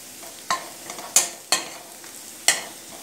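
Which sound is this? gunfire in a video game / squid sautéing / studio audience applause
squid sautéing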